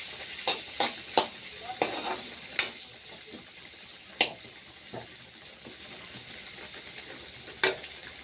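Sliced onion and garlic fry in a pan for tomato chutney, a quiet sizzle beneath a series of sharp scraping stirs spaced a second or two apart, heard close with no talk.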